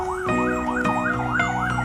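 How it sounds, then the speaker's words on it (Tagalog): An ambulance siren wails in a fast repeating up-and-down sweep, loud and close as it passes along a road, with a sharp knock or two beneath it. "Uy, ambulansya."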